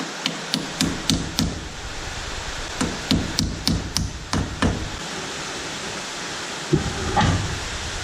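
Hammer strikes ring out on the brakes of a 1972 Dodge Demon with a new master cylinder and unbled brakes. Two quick runs of about half a dozen sharp metallic blows come up close, with a lone knock near the end.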